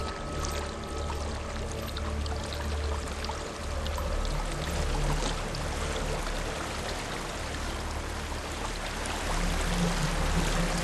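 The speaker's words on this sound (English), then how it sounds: "There's a waterfall." Steady rushing waterfall in the Hellblade: Senua's Sacrifice video game, a continuous broadband roar of falling water with low rumble, constant and fairly close, no voices.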